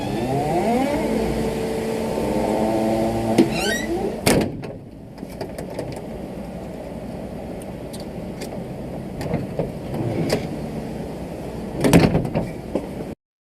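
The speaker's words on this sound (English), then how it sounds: "here we have a locked door, and we're just going to traveler hook this" A traveler hook tool works the latch of a locked door, giving a run of metallic scrapes, rattles and clicks with a couple of sharp clacks. A steady hum of room noise sits underneath, and the sound cuts off abruptly.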